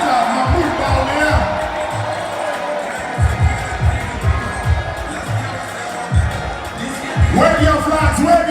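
A large crowd at a political event cheers and applauds loudly and continuously as Dr. Bawumia is welcomed on stage, with a voice talking over the noise and surges of cheering.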